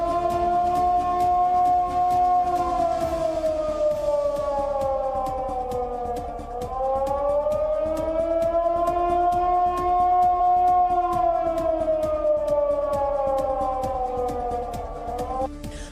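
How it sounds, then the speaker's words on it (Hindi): A loud siren wails continuously during an earthquake in Turkey, its pitch slowly rising and falling in long sweeps, with no voices. "फ्लाईओवर पर खड़ी गाड़ियां जोर जोर से हिलने लगी और सायरन बजना शुरू हो गया"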